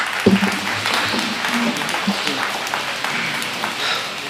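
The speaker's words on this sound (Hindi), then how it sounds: "जोरदार तालियों के साथ इस्तकबाल कीजिए।" Audience at a mushaira poetry gathering applauds to welcome a poet, steady mid-level clapping mixed with faint voices throughout.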